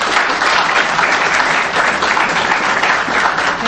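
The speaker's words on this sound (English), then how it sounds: "Please give her a very, very authentic and emotional applause, Ms. Fatima Al-Rashidi" Sustained, dense applause from an audience greeting Ms. Fatima Al-Rashidi at a 2015 Kuwait event, steady and fairly loud throughout with no voices rising above it.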